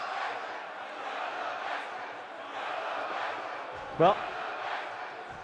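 A wrestling crowd cheering at a Global Sport Action event, a steady distant roar that swells and ebbs, with someone briefly speaking over it.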